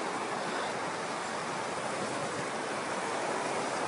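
Sea surf washing against the shore at a waterfront in Sihanoukville, Cambodia, a steady broad hiss of water heard faintly and continuously with no talk.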